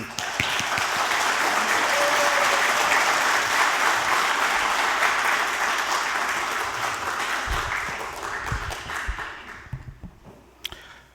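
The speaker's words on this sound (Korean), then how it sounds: "우리 목사님 나오실 때 한번 박수할까요?" A church congregation at an elder installation thanksgiving service applauds as the pastor comes forward, with dense, steady clapping that swells, holds, then thins to a few last claps.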